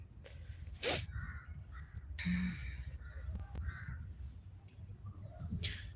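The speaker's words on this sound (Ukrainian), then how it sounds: "Ворони каркають щось." Several crows caw at a distance, a few separate calls spread over the clip above a low background rumble.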